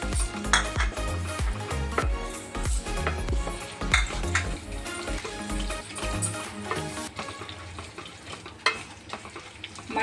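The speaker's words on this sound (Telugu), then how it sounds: "అన్నీ యాడ్ చేసి ఒకసారి బాగా మిక్స్ చేయండి." Tempering spices such as dried red chillies and curry leaves stirred in hot oil in a pan for curd rice, giving a steady loud sizzle with repeated scraping and clinks of a spoon against the metal.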